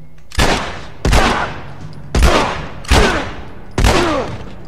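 Five sharp pistol shots in The Last of Us fired at roughly even intervals, each a loud crack with a short echoing tail, no voices.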